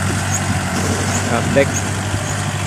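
A farm tractor engine drones low and steady throughout, with a person talking over it.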